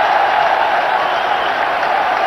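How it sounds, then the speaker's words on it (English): Rapturous crowd applause and cheering at a 1996 cricket World Cup match, marking Sachin Tendulkar's half-century, a dense, loud, continuous roar of stadium noise with no break. "Rapturous applause"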